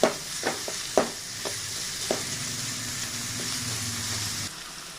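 Onions fry over a high flame for a cauliflower curry, a few sharp spoon knocks against the pan at the start, then a steady moderate sizzle that cuts off abruptly just before the end.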